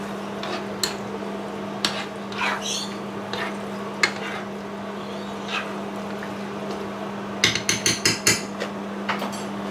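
Chicken cacciatore is stirred in a pan over a steady low hum, with scattered knocks of a spoon on the pan and a quick run of sharper taps near the end. Nobody speaks.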